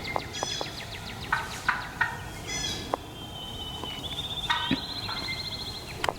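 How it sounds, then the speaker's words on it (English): A flock of young male wild turkeys, jakes, gobbles repeatedly during a spring hunt in Tennessee, with several overlapping bursts at moderate distance and a steady outdoor background. "I surprised a whole flock of jakes"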